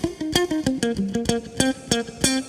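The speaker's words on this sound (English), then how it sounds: "Still on the middle pickup." Electric guitar on an HSS instrument played through its middle single-coil pickup, a run of short, punchy chord stabs in a steady funky rhythm, bright and close with some low end, no talking.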